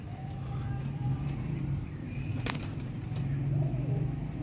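Rare shy Zeera pigeons kept by a fancier in Sialkot coo in low, repeated murmurs close by, against a soft background hum and a brief sharp click midway.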